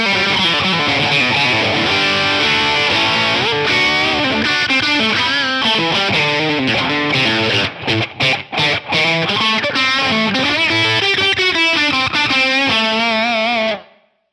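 An electric guitar through a distorted amp model on a Line 6 Helix plays a heavily distorted riff with sustained, gritty chords and a few brief stops, ringing out loud before cutting off at the end.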